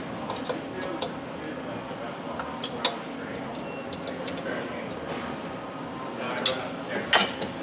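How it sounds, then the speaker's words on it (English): Metal standoffs being tightened by hand on a solder pot cart, soft scraping and small ticking clicks with a few sharper metallic knocks, close up over a low steady background hum. "Tighten down those standoffs 4 times each corner."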